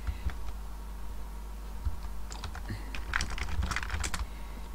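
Keys on a sticky computer keyboard, gummed up after a drink was spilled on it, clack in scattered taps and then a denser run of quick strokes, close and fairly quiet.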